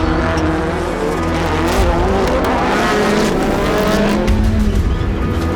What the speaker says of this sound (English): Two laps in, and Lasek opts for the shorter joker lap.